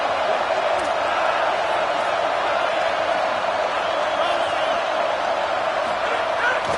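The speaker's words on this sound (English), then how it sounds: "this crowd is at fever pitch" Football stadium crowd at Oklahoma vs South Carolina during a third-down play in the red zone: a dense, sustained roar of thousands of fans, loud and unbroken, with voices blended into the wall of noise.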